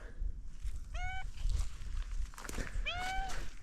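Two short cat meows, a second or two apart, over a noisy background with some rustling and shuffling, outdoors in a village in Shamakhi, Azerbaijan.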